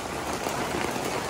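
Steady rain falls outdoors after a sudden clouding over, making a dense, even patter close by with no voices.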